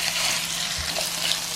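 Cornstarch-coated beef fries in hot oil over medium-high heat, giving off a continuous, even sizzle that stays close and fairly loud for the short stretch.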